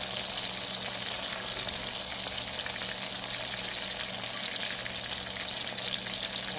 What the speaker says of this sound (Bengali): পেঁয়াজের আর রসুনের পেস্ট দিয়ে দিলাম। এটা ভালোভাবে কষিয়ে নেব।